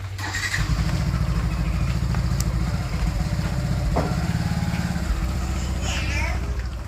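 A motorcycle engine runs steadily close by, a deep, continuous rumbling throb that holds for the whole stretch.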